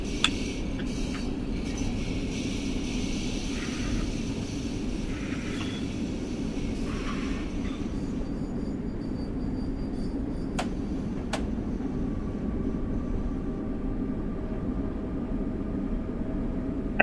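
A Long Island Rail Road commuter train in Train Sim World 6 rumbles steadily on the way into New York Penn, a continuous low drone with a faint whine overhead and a few brief clicks, no voices.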